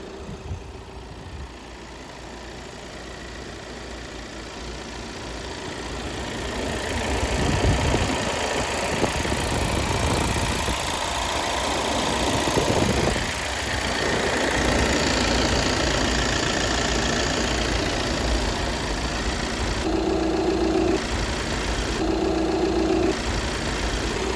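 A newer 2.0 TDI EA288 evo diesel engine idles with a steady rumble and light knocking, the sound swelling a little midway; two short tonal bursts appear near the end.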